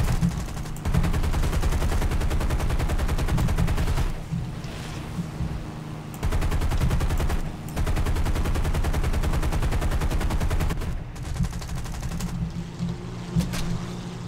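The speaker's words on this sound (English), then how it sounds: "What's shooting at me? Anti-aircraft gun." Anti-aircraft gun fire in the War Thunder combat flight game: sustained rapid automatic bursts, loud and dense, broken by a few short pauses, with no talking over it.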